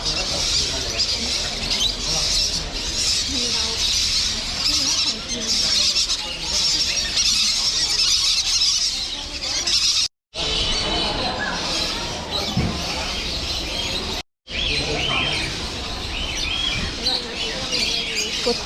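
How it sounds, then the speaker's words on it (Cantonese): Monk parakeets squawk and chirp at Guangzhou's large flower, bird, fish and insect pet market, a loud, dense chorus of bird calls heard close up with people talking in the busy background. "和尚鸚鵡。"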